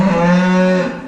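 A cow on a farm lets out a loud, close, sustained moo calling toward its calf, one strong tonal call lasting about a second with no other sounds.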